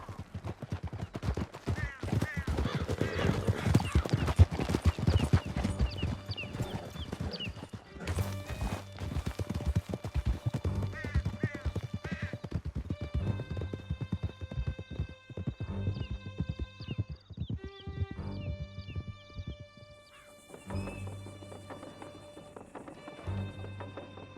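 Horses galloping in Red Dead Redemption 2 while riders flee through a canyon, with rapid thudding hoofbeats, occasional whinnies and distant gunshots, all layered under a game soundtrack.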